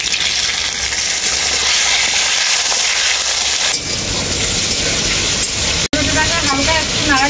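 Fried potatoes and chopped tomatoes sizzle loudly in a pan with panch phoron, a dense continuous frying hiss with stirring clatter and a brief break near the end.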